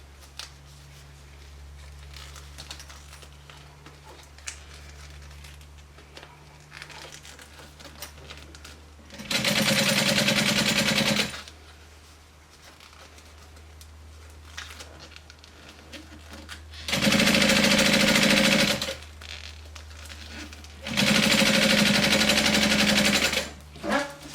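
Sewing machine top stitching a vinyl zipper panel runs in three steady whirring bursts, each a couple of seconds long, close up, with quiet pauses and a low background hum between them.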